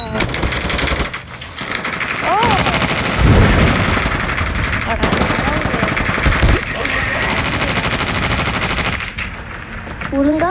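Rapid bursts of automatic gunfire from Call of Duty gameplay, loud and dense, running almost continuously with brief pauses, under game effects and occasional voices.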